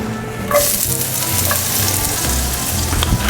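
Chopped onions hit hot olive oil in a skillet, bursting into loud, steady close sizzling with crackles and stirring scrapes throughout, with no talking.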